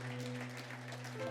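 A church congregation applauds during a worship service, a steady wash of clapping held at an even level under sustained low tones from music or instruments.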